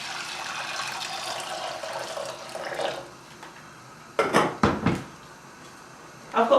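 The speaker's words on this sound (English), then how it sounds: "Add the water into the pan." Water is poured into a cooking pan for rice, a steady splashing pour lasting about three seconds, followed by a few clattering knocks of the pan.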